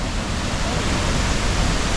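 Steady, loud rushing roar of a waterfall at La Paz Waterfall Garden in Costa Rica, continuous broadband white-water noise with no voices standing out.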